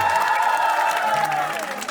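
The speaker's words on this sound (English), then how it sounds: "Huge applause, ladies and gentlemen" An audience at an opening ceremony for an adolescent well-being event applauds and cheers for a guest, a loud, continuous crowd roar with sustained clapping and some voices carrying through it.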